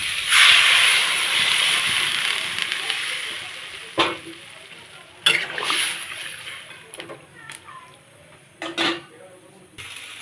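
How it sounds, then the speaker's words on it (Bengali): Water is poured into a pan of sautéed vegetables and spices for a pomfret and drumstick curry, bursting into a loud hiss at first, then fading under scattered metallic clanks of utensils against the pan. "এখন দিয়ে দেবো পরিমাণ মতো জল"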